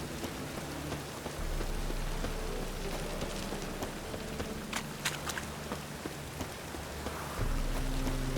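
Steady rain falling and pattering on surfaces in The Witcher 3, a continuous hiss with scattered drops and a low rumble at the start and end, no talk.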